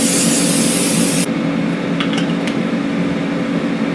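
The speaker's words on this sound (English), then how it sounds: "I'm going to spray lightly the tops of these." A steady hiss of avocado oil spray onto eggs runs for about a second, then stops, leaving a background hum with a few faint clicks.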